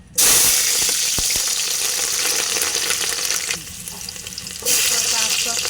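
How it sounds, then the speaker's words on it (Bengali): Green chillies hit hot oil in a pan with cooked lentils for khichuri, giving a loud, steady hiss and sizzle that dips briefly and then surges again, with no talking. "তেলটাও গরম হয়ে গেছে অনেক। এবার দিয়ে দিলাম কিছু কাঁচামরিচ চিড়ে দিছি"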